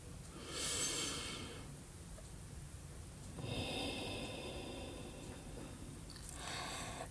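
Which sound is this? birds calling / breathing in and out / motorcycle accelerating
breathing in and out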